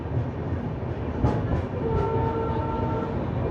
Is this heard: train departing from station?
yes